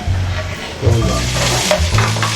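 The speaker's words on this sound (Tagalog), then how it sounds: "Magigisa na tayo ng garlic." Garlic sautés in hot oil in a pan, a loud, close, continuous sizzle with stirring scrapes and a few brief clatters of the utensil.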